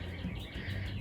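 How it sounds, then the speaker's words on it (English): Birds chirp faintly outdoors on a sunny morning, a soft, brief twittering over a steady low background hum. "birds are chirping."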